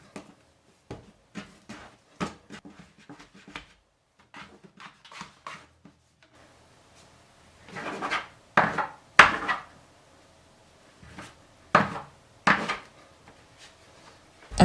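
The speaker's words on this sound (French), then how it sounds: "on la met en boule et on découpe 3 pâtons." Brioche dough taken from the mixer bowl, shaped into a ball and cut into three pieces on a wooden surface, giving scattered soft thumps, taps and knocks, sparse at first and then louder and closer.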